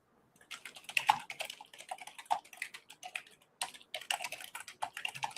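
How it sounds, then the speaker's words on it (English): Fast, forceful typing on a computer keyboard, with dense clattering keystrokes in quick bursts and a brief pause midway, close and distinct with no talking. "You were not kidding with that aggressive typing."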